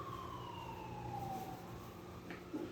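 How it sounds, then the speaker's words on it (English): Emergency vehicle sirens wail from a distance, a steady falling and rising tone as an ambulance passes, fairly faint and alone with no talking. "Got a lot of sirens coming."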